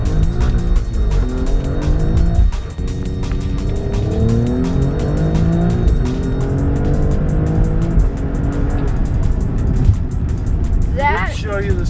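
An all-wheel-drive Alfa Romeo Stelvio Quadrifoglio SUV launches hard, its engine roaring loudly as it climbs steadily through the gears, with tire squeal as traction is lost. Occupants talk under the noise.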